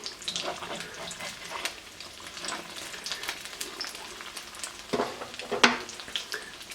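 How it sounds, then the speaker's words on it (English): Egg foo young frying in a very hot pan over a gas flame, a crackling sizzle with occasional sharper pops and spatters, close and steady. "Make sure your pan's very hot and you're evenly over the flame so the egg cooks the same all the way around"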